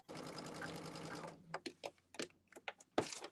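A sewing machine runs steadily for about a second and a half while stitching quilt block seams, then gives short separate bursts of stitching with pauses between them, close by and fairly quiet.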